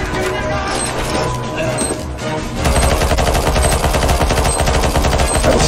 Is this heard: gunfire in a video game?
yes